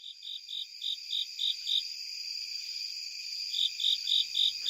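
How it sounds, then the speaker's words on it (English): A Japanese burrowing cricket calls from under a car in a Maryland forest in September, in rapid, evenly spaced high chirping bursts, pauses briefly, then resumes; clear and close against a quiet background. "Japanese burrowing cricket in September from under my car in a Maryland state forest."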